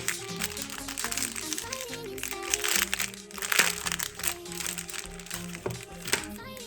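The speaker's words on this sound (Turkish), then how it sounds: "Şimdi bu poşeti açalım." A plastic pouch from an Apple Watch 9 box being opened, with steady crinkling and crackling rustles running throughout, close and fairly loud, under background music.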